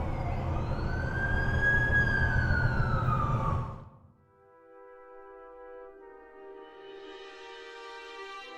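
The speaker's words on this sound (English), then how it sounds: "That's the ambulance I called." Ambulance siren in The Amazing Spider-Man 2 game, a loud wailing tone rising and falling for about four seconds, then cutting to a quieter, steady layered tone that swells slightly toward the end.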